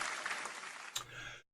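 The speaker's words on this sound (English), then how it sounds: "Give him a round of applause." Audience applause at the close of a live episode of a comedy show, a brief burst of clapping that runs steadily for about a second and a half before cutting off abruptly.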